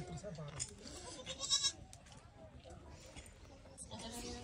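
Goats bleating in a farm pen where a mother goat has just given birth to two kids, calls mixed with close conversation and background farmyard noise.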